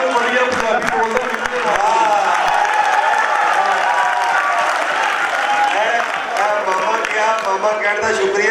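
Audience applause at a Punjabi literature festival session, dense steady clapping from a crowd filling the room throughout, with voices and cheering mixed in.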